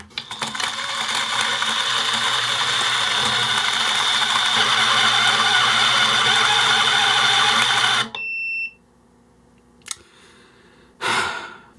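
Timemore Sculptor flat-burr coffee grinder running at a fine setting with lightly roasted coffee, a steady loud motor whir for about eight seconds that cuts off abruptly as the failsafe trips, then brief faint clicks.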